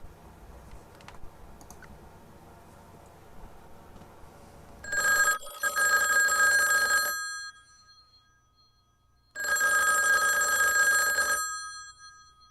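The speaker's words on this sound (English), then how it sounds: "the ringing of that phone bell means mystery, adventure." An old-fashioned telephone bell rings loudly in two long bursts of about two seconds each, separated by a brief silence.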